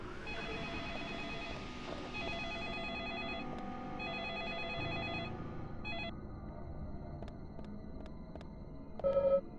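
A telephone in a video game rings in repeated electronic bursts with short gaps, clear and steady, over a faint background hum, ending in a few brief clicks and a short tone, with no voices.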